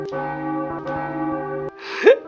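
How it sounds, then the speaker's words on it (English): A boss character's voice in a Fear & Hunger fangame plays as a deep church bell, two resonant tolls ringing out and decaying before a short gasp-like sound ends the clip. "Why is his voice just a church bell now?"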